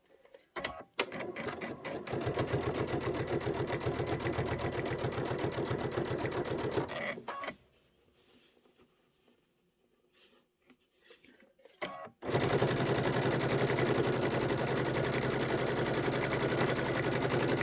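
A sewing machine stitches Kimberbell quilt sections in two long, steady, close runs separated by a quiet pause.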